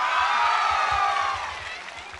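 Audience applause and cheering at a stage ceremony where guests are honoured, a dense wash of clapping close and steady that fades slightly toward the end, with a voice speaking over it.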